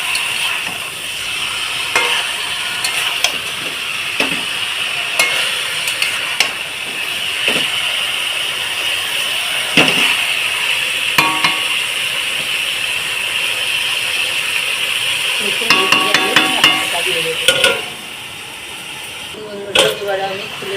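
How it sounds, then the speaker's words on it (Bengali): Chicken sauteed in a pan with oil, stirred steadily: a continuous frying hiss runs under intermittent scraping and clinks of a utensil on the pan, with a voice talking over it in places. "এইভাবে চিকেনটাকে ভালোভাবে কষিয়ে নেব"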